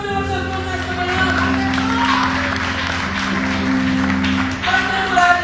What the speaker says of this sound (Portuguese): Você pode aplaudir o Senhor Jesus nesta manhã